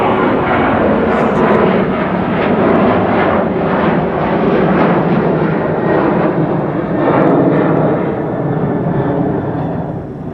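A Delta airliner departing Amsterdam Schiphol, loud sustained jet engine roar with pulsing rumble, close and continuous throughout.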